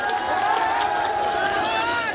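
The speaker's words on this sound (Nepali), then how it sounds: "एकचोटी जोरदार ताली हाम्रो हजुरआमाहरुको लागि" Crowd clapping for the grandmothers at a live stage comedy program in Nepal, a steady wash of applause with a voice ringing over it throughout.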